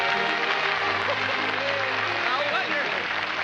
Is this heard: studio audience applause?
yes